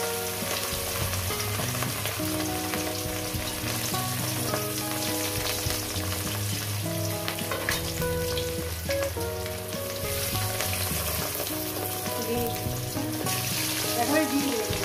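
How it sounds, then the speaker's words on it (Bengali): Pieces of katla fish fry in hot oil, giving a loud, continuous crackling sizzle that stays close and dense for the whole stretch, with faint background tones and occasional light clatter. "তেলটা আমার গরম হয়ে গেছে বন্ধুরা, দেখুন দিয়ে দেবো দুটো করে আমি ভাজবো"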